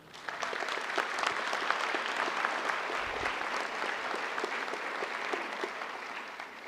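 Graduates and guests at a college commencement break into sustained applause, dense clapping that rises quickly and holds steady for several seconds in a large hall.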